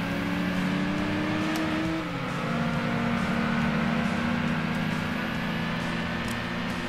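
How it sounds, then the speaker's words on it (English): A Volkswagen Lupo's engine hums steadily while racing in Gran Turismo 2, a continuous droning tone that dips and rises as gears change, loud and alone without speech. "Behind the wheel of a Volkswagen Lupo."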